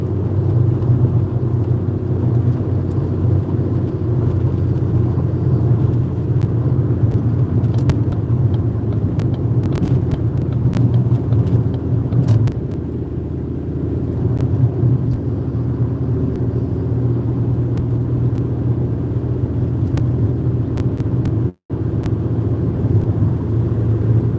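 A Chevrolet car driving on the road, heard from inside as a steady low engine and road rumble, loud and unbroken for the whole stretch apart from a brief dip and a sharp cut near the end.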